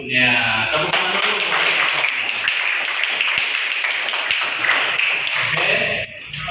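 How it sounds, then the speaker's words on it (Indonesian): Schoolchildren in a classroom burst into sustained group hand clapping, a loud, dense patter of claps running for several seconds before stopping abruptly. "Tepuk tangan dulu."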